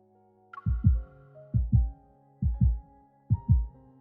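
A plant's heartbeat in the video game Love and Deepspace thumps in four evenly spaced double beats, each a soft lub-dub pair, close and muffled over a faint sustained musical drone, with no voices.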